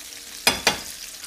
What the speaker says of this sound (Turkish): Burada kızartmak çok önemli.